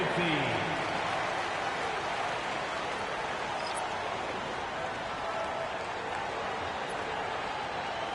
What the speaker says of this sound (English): Fans, give a big round of applause for your dance team.